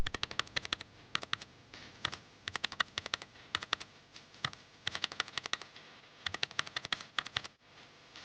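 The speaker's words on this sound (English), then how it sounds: "In the prompt box, type Build a simple budget tracker app." Keys clatter on a computer keyboard as a short text prompt is typed in quick bursts of close, crisp clicks separated by brief pauses.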